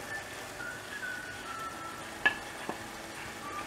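Brinjal, drumstick and cowpea stir-fry being stirred in a pan, a soft steady sizzle with a couple of sharp spatula scrapes and knocks standing out near the end.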